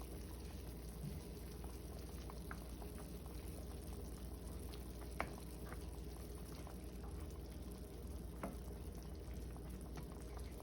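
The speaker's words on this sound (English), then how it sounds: "Now I'm gonna cover it right back and allow it to come to a boil." A covered pot of brown stew chicken simmers toward a boil, giving a steady soft bubbling and hiss with a few faint pops and ticks. It sounds close and quiet, and nobody talks.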